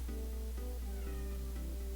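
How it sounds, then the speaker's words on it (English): A house cat meows repeatedly and close by, several drawn-out calls in a row over a steady low hum, with no talking. "My cat even decided to come hang out."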